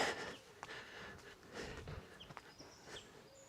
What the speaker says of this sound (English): Oh, there's a little baby bird there.